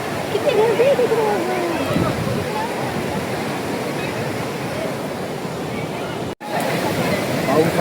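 A waterfall in the Daryai Mata temple valley near Nashik gives a steady, loud broadband rush throughout, with a crowd's voices mixed into the roar and a brief cut near the end.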